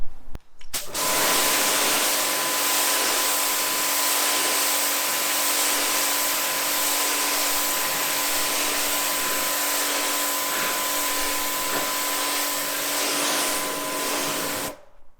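A Kranzle pressure washer runs during cleaning, switching on with a sharp onset into a steady, loud droning whine with a faint tonal hum, holding evenly for about fourteen seconds before cutting off.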